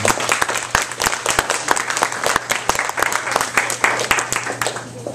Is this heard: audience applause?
yes